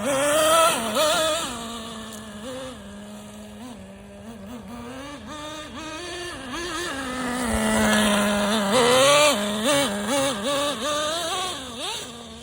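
A neglected Traxxas Nitro Slash RC car with an untuned nitro engine, running with a high buzzing whine that keeps wavering in pitch as the throttle is blipped, close and fairly loud, with no speech.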